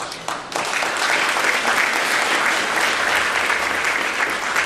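Audience applause at the Buffalo Schools State of the Schools address, a dense, steady round of clapping from a large hall crowd that swells quickly and holds for several seconds.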